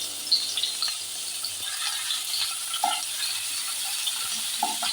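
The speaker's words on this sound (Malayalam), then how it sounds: "ഇതൊന്ന് ചൂടായി വന്നാൽ ഇഞ്ചി വെളുത്തുള്ളി ഇട്ട് കൊടുക്കുക" Ginger, garlic and green chilies fry in a hot pan with a steady, fairly soft sizzle, broken by light taps from stirring, with no voices.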